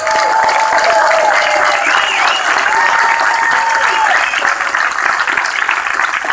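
A crowd at a dedication event claps for a Sousa memorial band, loud and steady applause with scattered whistles, sustained throughout without pause.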